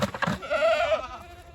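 Goats bleat at a sale barn while being sorted and fed: a close, loud, wavering bleat rising over a brief scuffle of other goat noise, then fading.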